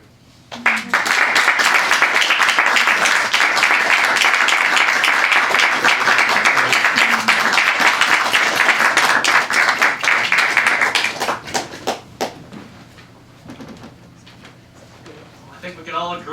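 Loud, dense audience applause follows a poetry reading at a hybrid event, with sustained clapping from about one second to eleven seconds before it thins into scattered claps and quiet room noise.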